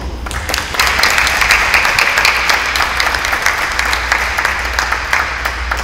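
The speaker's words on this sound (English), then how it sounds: "We want to give you a round of applause." An audience at a high school athlete's college signing ceremony applauds her teachers, a strong burst of clapping that swells quickly and holds steady, close and full, with a low hum underneath.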